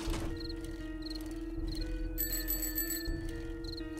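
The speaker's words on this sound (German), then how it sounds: "die Fahrradklingel, die klingt endlich wie eine Klingel" A bicycle bell in the game 7 Days to Die rings repeatedly, short bright metallic dings recurring at a steady pace over a constant low electronic hum, with a brief louder shimmering chime midway.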